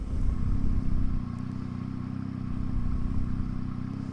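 A Laro engine idles steadily after a stator replacement, a loud, low, even rumble running throughout with a slight dip in level after the first second.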